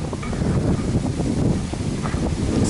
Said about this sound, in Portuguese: Esse pedacinho aqui sempre tem bastante vento.